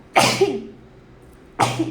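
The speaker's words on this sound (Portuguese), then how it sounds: "eu vou espirrar" Two loud, explosive sneezes close up, about a second and a half apart, with a brief quiet gap between them.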